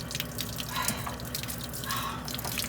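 Water leaks from a broken joiner piece between two caravan water tanks, a continuous close splashing and dripping stream with some steady low background noise and no speech.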